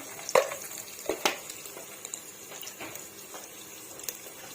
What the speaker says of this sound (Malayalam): അതിൻ്റെ അകത്തേക്ക് കുറച്ച് കാഷ്യൂ നട്ട്സ് ഇടാണ്